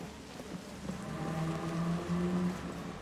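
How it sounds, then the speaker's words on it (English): Steady rain patters close by in the Cyberpunk 2077 video game, falling indoors under no roof, with a low tonal hum underneath and no voices. "Oh, it's raining inside?"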